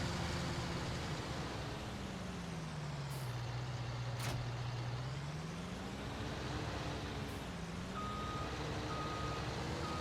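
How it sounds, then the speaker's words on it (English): A tractor's backup beeper in Farming Simulator 19, a faint regular series of short beeps near the end over a steady engine drone whose pitch sweeps down and back up. "Got a backup beeper."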